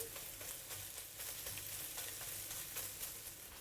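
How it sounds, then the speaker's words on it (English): Eggs scrambling and frying in an oiled wok give a dense, constant sizzle broken by rhythmic stirring and scraping strokes, heard up close and alone. "We'll need to fry them until they are cooked. Scramble them up like this."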